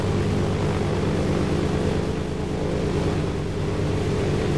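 Airplane taxiing toward a runway in the military video game Arma II, a steady, loud engine drone that holds even and unbroken throughout with no talk.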